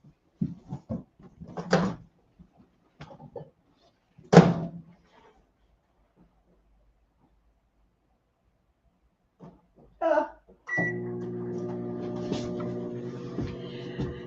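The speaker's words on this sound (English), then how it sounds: "I'm going to put in the microwave for 60 seconds." A microwave oven heating cake switches on after a few clunks and a door shutting, then settles into a steady electric hum with a low buzzing drone.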